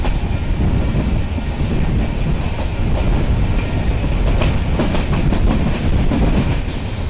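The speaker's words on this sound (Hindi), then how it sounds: "हम जयपुर से दिल्ली के सफर पर हैं और डबल डेकर पे मौजूद हैं" A double-decker passenger train running from Jaipur to Delhi makes a loud, continuous rumble and rattle from the carriage, with faint rhythmic clacking of the wheels throughout.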